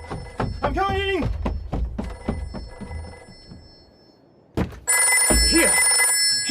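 A telephone bell rings in a radio drama scene, its bright tone bursting in loudly near the end after a stretch of muffled thumps and knocks.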